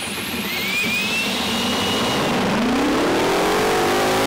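A 16-cylinder two-stroke Detroit Diesel engine runs loud and close, a dense unbroken roar that rises in pitch as it revs up, then cuts off abruptly at the end.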